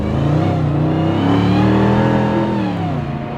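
A 2008 Mercedes SLR McLaren Roadster engine accelerates on the road, its loud throaty tone rising steadily through the revs and then easing slightly toward the end, heard up close from inside the car without talk.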